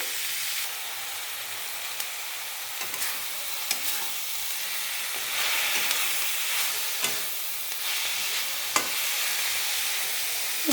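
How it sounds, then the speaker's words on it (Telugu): Leafy greens fry in a covered pan, a continuous hissing sizzle with scattered soft pops and clicks throughout, fairly close and with no voices. "మళ్ళీ మనము మూత పెట్టి కొంచెంసేపు వేగనిద్దామండి"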